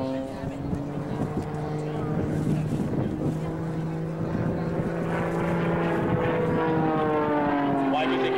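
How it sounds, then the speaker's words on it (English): Canadian Forces Snowbirds aerobatic airplane performing a vertical maneuver at the 2003 Kern County Airshow, a steady droning engine with shifting pitch that bends downward as it passes, continuous and moderately loud, with an announcer talking over it. "Watch Mike as he comes vertically back down, backwards, back in the airplane"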